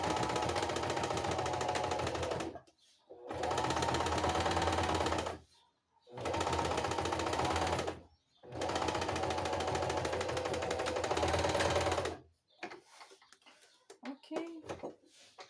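A sewing machine stitches a fabric wallet, running close and steady in four long bursts of rapid needle clatter with brief pauses between them, then quiet handling at the end.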